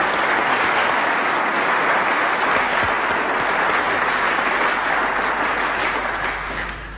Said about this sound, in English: I think he deserves a nice big round of applause.